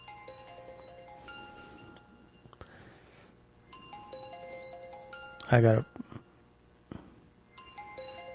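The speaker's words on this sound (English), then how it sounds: "I'm not answering that phone." A phone ringing indoors, its electronic melody of bright chiming tones repeating through the clip beneath a person speaking, plus a brief loud knock or clatter partway through.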